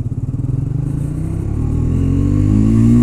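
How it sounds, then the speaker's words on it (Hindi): A new Triumph Speed 400 motorcycle is ridden with its engine close and loud. A pulsing low idle-like thrum gives way to a rising rev as it accelerates, and no voices are heard. "तो अभी फर्स्ट टाइम मैं भाई अपनी जो बाइक है स्पीड 400 उसको चला रहा हूँ फर्स्ट टाइम"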